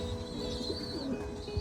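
Pigeons in a loft, soft low cooing close by with a few faint chirps, quiet and continuous over a brief moment.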